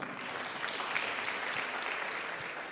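Workshop participants at a leadership training day clap for themselves in a steady, even wash of applause, moderately quiet and sustained without a break.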